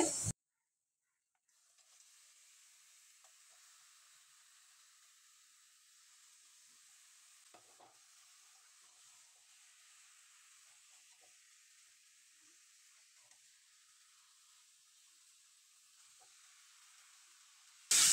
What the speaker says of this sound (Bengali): আমি মশলার সাথে মাংসটা ভালো করে মিশিয়ে নিয়েছি